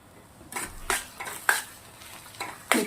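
A spoon scrapes and stirs crushed coriander-cumin spice into Marwadi chutney in a pan, making about five distinct rhythmic strokes with light sizzling underneath and no talking.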